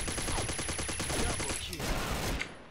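Gunfire in the online shooter Combat Arms, a rapid burst of automatic shots in quick regular rhythm followed by a few scattered reports, moderately quiet in the game mix.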